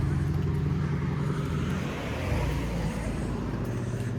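At night, a car with very bright headlights moves along a road close by, giving a steady low engine and tyre rumble that swells slightly midway. Outdoor traffic noise surrounds it.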